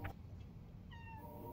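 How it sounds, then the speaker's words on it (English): A cat gives a short, fairly faint meow over a steady low background hum, a single thin call that tails off near the end, with no talk. "Hello, little kitty."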